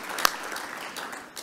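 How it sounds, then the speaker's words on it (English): Brief applause from a conference audience at a cardiovascular technology forum, a short burst of clapping with one sharp clap standing out near the start. "A round of applause."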